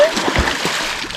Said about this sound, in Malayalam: ഞങ്ങൾ നീരാടുകയാണ്.